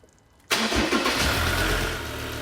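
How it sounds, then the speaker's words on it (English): A car engine cranks and catches abruptly after a moment of near silence, then settles into a steady, fairly loud idle with a low mechanical rumble. "At this point, it's probably good to start the car."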